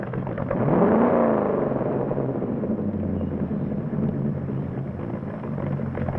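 A 1960s-era car engine turns over and settles into a steady, low, rumbling idle, close and loud, with a brief rev at the start.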